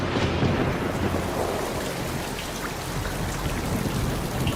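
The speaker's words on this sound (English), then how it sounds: "when condensation occurs on this planet, it rains methane" Methane rain falling on Titan, heard as a dense, continuous downpour hissing steadily over a deep low rumble, with no break.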